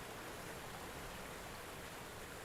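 Steady broadband rush of a waterfall in the video game Welcome Island, continuous and even with no breaks, heard alone without voices.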